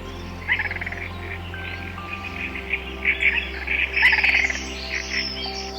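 Several birds call and chirp in the Borneo rainforest, with clear tweets and whistled notes coming in bursts over a steady hum of insects and frogs, mostly moderate in loudness and fairly close.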